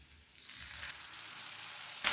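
Potatoes fry in a pan for a thin singi fish curry as a paste of ground cumin, coriander and dried chillies goes in, the sizzle swelling from quiet to steady hiss and flaring louder near the end.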